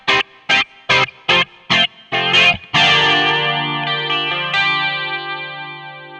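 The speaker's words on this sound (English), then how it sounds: "So you hear the flanger and you can hear the Marshall kind of breaking up there too." Electric guitar through a flanger preset on an RP1000 multi-effects unit into a Marshall amp that is breaking up, played on the bridge pickup: several sharp staccato chord stabs, then a sustained ringing chord with a sweeping, jet-like flange swirl, loud and alone.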